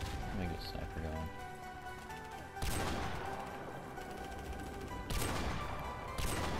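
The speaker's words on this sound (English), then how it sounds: "I'm getting shot at." Gunfire in Modern Warfare Remastered during a seasonal event match, broadband crackling bursts with heavier shots around the third and fifth seconds, mixed under game sounds and talk.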